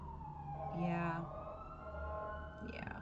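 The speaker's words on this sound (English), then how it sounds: "Sirens. Usually I edit them out" A distant siren wails and rises over steady traffic rumble, fading in and out across a few seconds with faint voices in the background.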